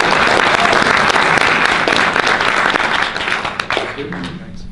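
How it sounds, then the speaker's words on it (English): Loud, dense applause from a conference audience for a panel at a Bitcoin conference in San Diego, sustained clapping that thins out toward the end. "a round of applause for our panelists"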